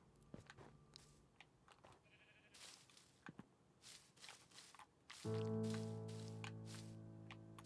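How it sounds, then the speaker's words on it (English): Sheep bleating in the Minecraft video game, short game sounds and footstep-like taps scattered through the first five seconds before a loud sustained tonal sound takes over; no talking. "There's a white sheep."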